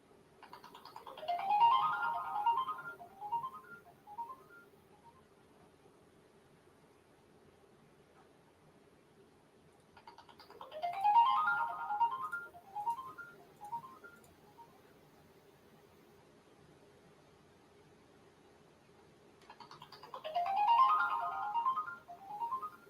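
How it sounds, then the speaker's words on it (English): A melodic phone ringtone plays three times, each burst a quick rising run of bright synthetic notes, separated by several seconds of quiet hum. "Fancy ass ringtone."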